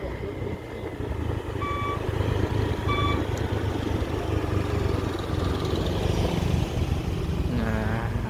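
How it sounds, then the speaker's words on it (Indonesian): A large truck maneuvering slowly on a narrow road, its reversing beeps sounding in short repeated bursts over a steady engine rumble and passing traffic noise. "Nah, ada mobil besar masuk sini."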